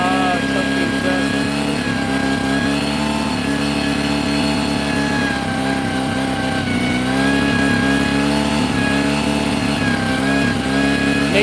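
Mercury 9.9 hp outboard motor on a boat, running after carburetor trouble: a close, loud, continuous engine drone with a steady pitch and slight rhythmic wavering, running alone for the whole stretch.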